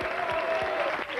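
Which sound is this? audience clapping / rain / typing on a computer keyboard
audience clapping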